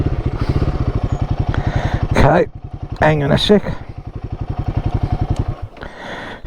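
Royal Enfield Guerrilla 450 single-cylinder engine idling close by in a shaded parking spot, a loud, even thumping pulse that stops briefly and resumes, with someone speaking over it.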